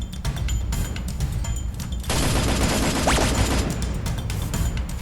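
M4A1 rifle gunfire in a shooter game: rapid, dense bursts of close shots throughout, growing heavier midway, with no talk over them.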